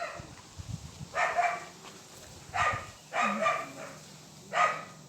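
A dog shut in a cage barks about four times in separate short bursts, fairly close, with quieter rustling in the gaps between barks.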